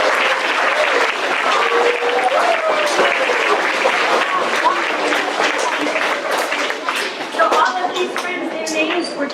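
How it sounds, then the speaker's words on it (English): An audience at a school all-school meeting claps in a dense, steady round of applause that keeps going for several seconds, then thins slightly toward the end. "let's give them a little round of applause."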